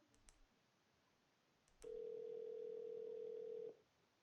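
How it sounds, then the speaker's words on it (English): In the Sally Face video game, a phone rings with a steady electronic tone that holds for about two seconds after a few faint clicks, then stops and leaves quiet. "Pick up the phone, Larry."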